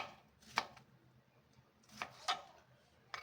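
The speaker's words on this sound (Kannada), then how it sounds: "ಈಗ ಟಮಾಟೆ ಹಣ್ಣು ಕಟ್ ಮಾಡ್ಕೊಳ್ಳೋಣ" A knife cuts through tomatoes on a board for a wedding-style vegetable sambar, giving three or four sharp chopping knocks spaced irregularly, close and fairly quiet, with no talk.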